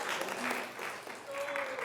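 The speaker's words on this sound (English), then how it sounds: "Well, you've got a cheering section." Audience cheering and applauding for a speaker being called up at a city council meeting; a dense burst of claps and whoops that dips briefly and then swells again, with no talking.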